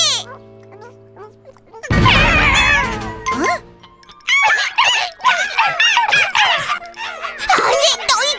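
Animated dogs yip, whimper and bark in quick, excited bursts at feeding time, with jingling tags and chewing noises. The sounds are loud and close, mixed with chatter from the characters.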